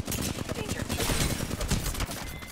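Dense, sustained gunfire from two players at once in Apex Legends, rapid overlapping shots rattling continuously and loudly with no pause, up close.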